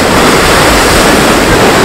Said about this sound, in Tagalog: Ay, tumatalsik pa yung tubig.